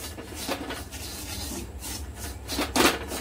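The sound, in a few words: stirring sabudana roasting in ghee in a pan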